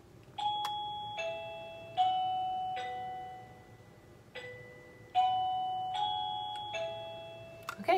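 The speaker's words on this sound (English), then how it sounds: "You just ring the doorbell, give them 10 seconds, and they look at you." Wireless doorbell chime used in a classroom, ringing a series of clear two-tone ding-dong notes at uneven intervals, each ringing out and fading, moderately loud against a faint background hiss.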